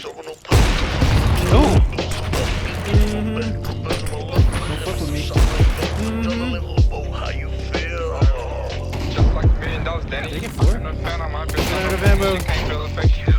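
AWP sniper rifle fire in Counter-Strike: Global Offensive, with sharp, loud gunshots spread across the match at an irregular pace, mixed with bolt-cycling clicks, footsteps and other game sounds.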